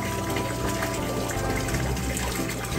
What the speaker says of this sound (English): I think they're doing a water change right now, or this is a constant water change system